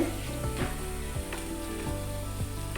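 Kerala-style crispy onion vada fry in hot oil with a continuous close sizzle, broken by a few light scraping knocks from a utensil, no voices.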